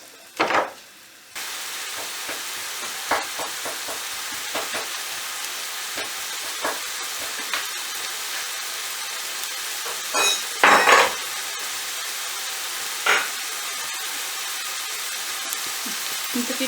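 Onions and chopped garlic sweat in a pan for a scallop risotto, giving a soft steady sizzle broken by scattered clicks and clatters of a spoon stirring against the pan.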